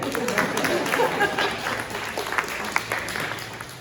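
Scattered clapping from supporters at a political campaign event in Cortland, a loose patter of hands at moderate level with crowd murmur and voices mixed in.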